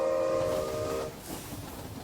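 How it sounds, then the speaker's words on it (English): Diesel-punk passenger train in a modded Minecraft world passing by, a short whistle or horn tone sounding first, then fading into a softer rolling rumble. "wave to the Bamboo Express, the passenger train going by."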